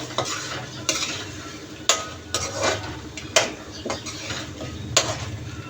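Mutton and okra curry stirred in a pan, with steady frying sizzle and repeated sharp scrapes and clinks of a utensil against the pan at irregular intervals, close and fairly loud, with no talking.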